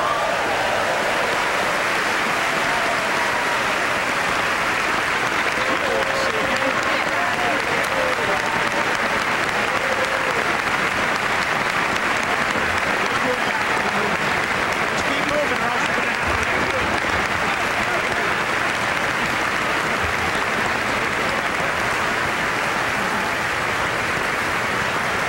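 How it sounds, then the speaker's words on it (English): Sustained, dense applause from a large chamber audience greeting the President at the State of the Union, a steady roar of clapping lasting the whole stretch, with faint voices mixed in. "And the applause we were talking about"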